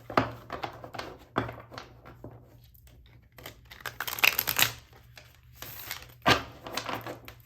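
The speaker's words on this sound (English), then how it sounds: "Let me give these a good shuffle." Tarot cards being shuffled by hand during a card reading: a run of crisp riffling, crinkling and tapping bursts, close and moderately loud, with brief quiet gaps between shuffles and no talking.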